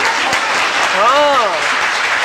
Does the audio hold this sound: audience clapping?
yes